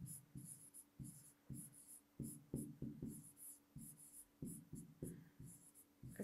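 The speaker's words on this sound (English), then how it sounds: "So let's write it down." Pen or pencil writing a list on paper, a steady run of short scratchy strokes close up, with no talking over it.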